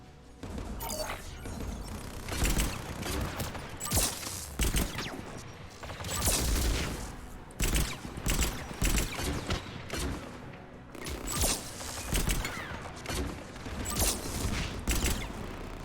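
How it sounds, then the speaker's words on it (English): Anti-aircraft guns in Mass Effect 3 pound out repeated heavy bursts of fire, with sharp blasts and rattling volleys recurring irregularly throughout, loud and close. "There, the anti-aircraft guns."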